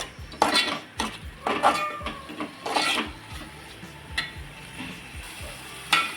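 A spoon scrapes and knocks against a pan while crab curry masala is mixed, with repeated clattering strokes at an irregular rhythm over a faint cooking hiss and no voices.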